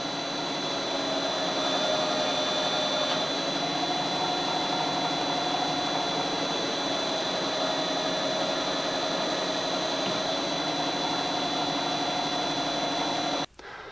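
A vehicle engine with a GM 6L automatic transmission drones steadily and loudly for the whole stretch, a constant whining hum that cuts off abruptly at the very end.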